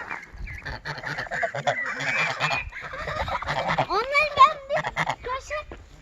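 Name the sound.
ducks quacking in mud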